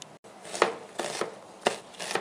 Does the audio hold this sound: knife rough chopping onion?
yes